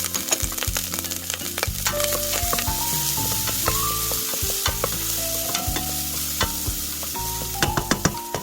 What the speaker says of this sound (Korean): 냄비에 참기름 한 스푼을 넣고 마늘 한 스푼 볶아주세요.